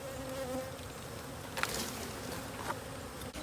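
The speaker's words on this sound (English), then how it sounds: "Now you got bees flying everywhere" A dense, steady buzzing of many honey bees shaken from a hive fills the air, close and continuous, with a few individual bees zipping past louder.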